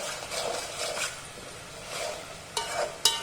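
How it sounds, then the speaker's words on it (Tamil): Mint leaves sautéing in a pan for vegetable salna, a soft steady sizzle with intermittent stirring scrapes and a couple of sharper utensil clinks near the end, close and alone without talk. "புதினா தலையெல்லாம் நல்லா சுருள வதங்கட்டும்"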